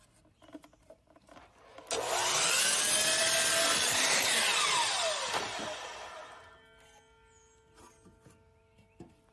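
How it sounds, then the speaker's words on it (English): A miter saw cuts a 1x8 wood board at a slight angle: one loud, steady whine of the blade through the wood lasting a few seconds, then it winds down into quiet handling noise. "line up the end of the board with the mark on the miter saw base and just make your cut right there"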